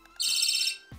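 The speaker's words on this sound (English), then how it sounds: "a little personal alarm built in just by holding this switch down" A Boruit V10 keychain flashlight sets off its built-in personal alarm siren, a shrill, rapidly warbling electronic wail that blares close and loud for about half a second before cutting off with a soft click.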